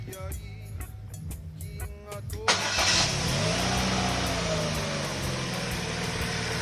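A Holden Cruze with a freshly replaced engine cranks and catches partway through, then settles into a steady, close idle hum; a voice is heard briefly before the start.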